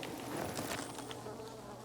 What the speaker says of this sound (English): the apocalypse doesn't seem to have affected the bees very much